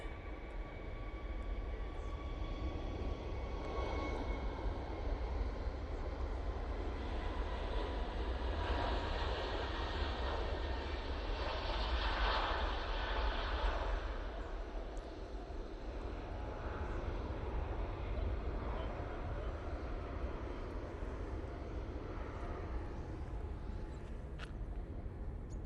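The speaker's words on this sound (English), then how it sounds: "we've got this Jet 2 A321 Neo going out" A Jet2 Airbus A321neo departs Manchester Airport. Its engines make a faint, distant rumbling roar that swells slightly in the middle and then eases off, with no talking.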